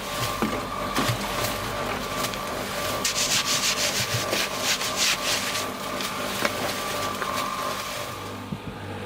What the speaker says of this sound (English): I'm just going to use either a Scotch-Brite powder coarse one or a stiff nylon brush to remove any of the dust